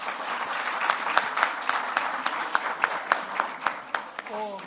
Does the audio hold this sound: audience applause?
yes